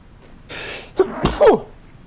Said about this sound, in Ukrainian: Зараз щикну.